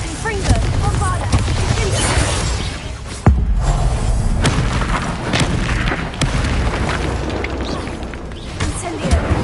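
Spell blasts from Bombarda and Confringo in the Hogwarts Legacy video game, a dense run of booming thuds and bursts that keep going for nearly ten seconds amid a loud, chaotic duel mix with a sharp crack just past three seconds.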